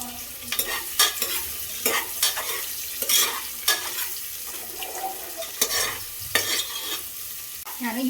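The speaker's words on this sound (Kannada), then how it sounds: "ಆನಿಯನ್ ಚೆನ್ನಾಗಿ ಫ್ರೈ ಮಾಡಬೇಕು ಎಣ್ಣೆಲಿ" Onions frying in hot oil in a small 5-litre pressure cooker with curry leaves, a steady close sizzle punctuated by frequent scraping stirs of a spoon against the metal, no talking.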